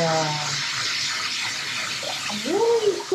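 Shower water runs in a steady broadband rush for a puppy shiba inu nearby, with a brief rising vocal sound near the end.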